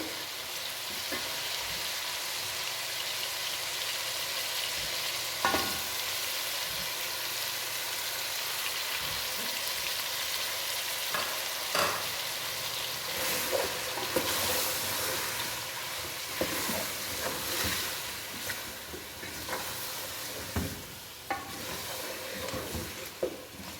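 Chicken korma with ground spices sautéing in a pan, a steady sizzling hiss throughout with scattered spoon scrapes and clinks, close and moderately loud, no voices.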